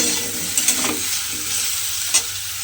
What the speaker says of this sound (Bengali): সয়াবিনগুলোও কিন্তু এই সবজির সঙ্গে ভালোভাবে একটু ভেজে নেব